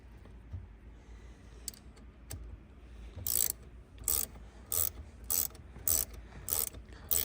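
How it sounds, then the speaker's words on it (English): Ratcheting wrench clicking in quick, regular bursts while installing a Kartboy short throw shifter in a Subaru WRX or Legacy GT, close and crisp, with about eight repeated ratchet strokes after a few quieter taps. "Makes it nice having a ratcheting wrench, because then this process will go by a lot quicker."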